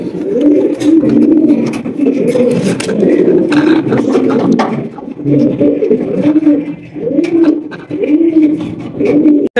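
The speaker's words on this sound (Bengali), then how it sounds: "একজোড়া কিং কবুতর দেখতে পাচ্ছেন, ব্ল্যাক কালারের কিং।" A pair of black King pigeons coos repeatedly in low, throaty, rolling phrases close by, over background chatter and rustling at a pigeon seller's.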